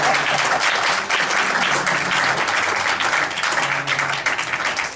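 A room full of people at a town council meeting breaks into loud, sustained applause, dense clapping that stays strong for several seconds before easing slightly toward the end.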